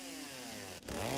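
A chainsaw in Silent Hill 2 drones steadily with a buzzing whine, dips briefly, then revs back up louder, alone and fairly close.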